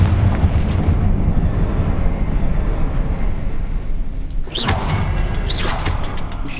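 A Confringo spell explodes in the Hogwarts Legacy video game, two sharp whooshing blasts bursting out near the end over a dense, rumbling game soundscape.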